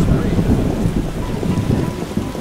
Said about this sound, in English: It rains and it pours.